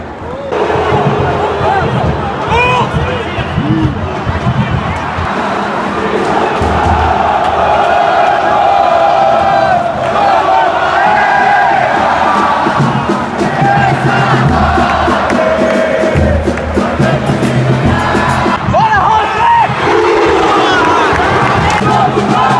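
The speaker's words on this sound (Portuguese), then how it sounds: "Ó a torcida do Bahia, mano" Bahia football supporters crowd noise at Fonte Nova stadium during the last match of the year, a loud continuous roar of massed voices with rising chants and shouts, sustained and close throughout.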